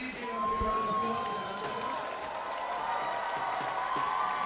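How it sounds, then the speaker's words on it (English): Crowd noise from an audience at a rural sports festival volleyball final in Coimbatore, a steady wash of clapping and cheering with voices mixed in, fairly loud and continuous throughout. "Please give a big round of applause."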